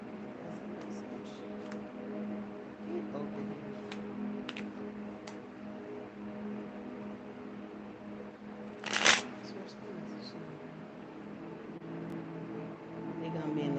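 Tarot cards shuffled by hand up close, a soft papery riffle with light ticks and one brief louder flurry, running under a steady low murmur.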